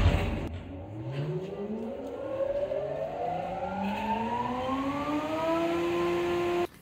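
A jointer-thicknesser planer motor and cutter block spinning up from rest, a rising whine that climbs steadily in pitch over several seconds before cutting off abruptly, close and fairly loud, with no talking.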